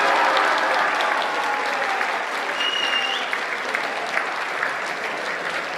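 An audience at a boys' basketball awards ceremony gives the cheerleaders steady, sustained applause, a dense wash of clapping that holds at an even level throughout with no speech over it.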